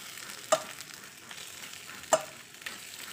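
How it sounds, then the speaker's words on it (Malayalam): Small cleaned sardines fry in coconut oil in a pan, with a soft, steady sizzle and two distinct clinks of a utensil against the pan; quiet, with no talking. "ഇനി നമുക്ക് വേണ്ടത് കുഞ്ഞമത്തി നന്നാക്കിയത് ഈ വെളിച്ചെണ്ണയിലേക്ക് ഇട്ട് കൊടുക്കാം."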